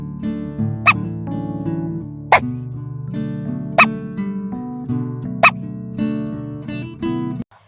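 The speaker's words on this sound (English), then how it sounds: "D for dog." A dog gives four short, sharp barks at an even pace over bouncy children's alphabet-song music, with each bark standing out clearly above the melody.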